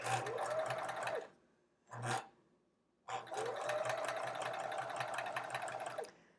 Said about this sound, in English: Still working on sewing straight lines in a scant 1/4 inch.